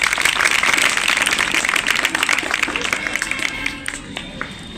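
An audience at a school assembly at an inter college in Marehra gives a round of steady applause that dies away toward the end.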